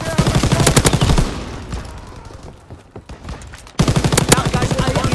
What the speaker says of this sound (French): Mitraillage ennemi imminent, à couvert